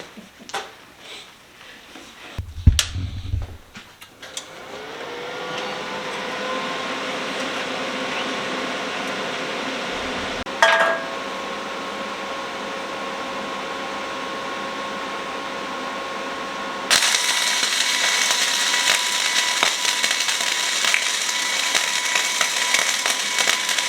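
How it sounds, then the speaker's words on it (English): A newly started flux-core welder on a shop table gives a steady electrical hum with a sharp click partway through, then a loud, continuous crackling hiss from the arc that runs to the end. "You wanna fire it up and do a little welding?"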